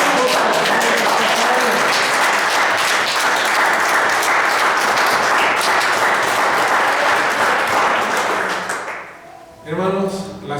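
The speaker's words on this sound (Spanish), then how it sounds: "Denle el aplauso al Señor." A church congregation applauding during a sermon, dense, loud clapping that continues for about nine seconds before fading, followed by a brief spoken voice.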